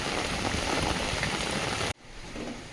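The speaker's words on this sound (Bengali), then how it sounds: "বৃষ্টি হচ্ছে জোর কদমে বাইরে" Heavy rain pours down outside a house during a storm, a loud, dense, steady hiss that stops abruptly after about two seconds and gives way to a quieter wash.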